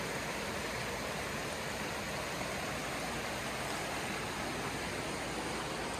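River current flowing past a sandy beach under a bridge, a faint, even, unbroken rush of water with no voices.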